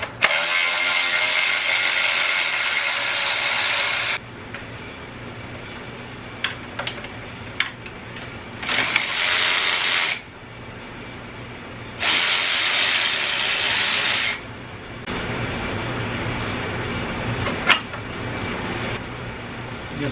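A ratchet loosening 8mm bolts on the upper intake manifold of a 3800 V6 engine, long steady runs of fast close clicking broken by pauses, small metallic clinks and short bursts of ratcheting.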